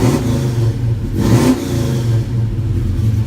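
A car engine runs with a steady mid-range hum, swelling into a short, louder rev about a second in, then settling back to a smooth, throttle-blipped drone with no voices.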